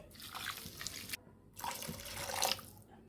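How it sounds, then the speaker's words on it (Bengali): Two cups of water are poured into a cooking pot while a hog plum pickle is made with grated coconut and jaggery, giving two faint bursts of splashing liquid with a brief pause between them. "চায়ের কাপে মেপে দু কাপ পানি দিয়ে দিচ্ছি"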